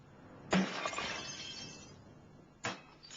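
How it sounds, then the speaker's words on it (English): A pane of annealed glass shatters into shards with a sharp crash and a long tinkling spill of fragments, followed by a second, shorter breaking burst near the end. "3M offered to demonstrate how easily annealed glass will shatter into deadly shards."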